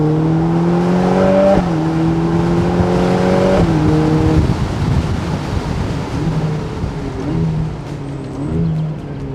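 A Ferrari Portofino M with a 3.9-litre twin-turbo V8 revs hard in loud, rising sweeps, drops back, then settles into a rougher, burbling idle with a few short blips toward the end.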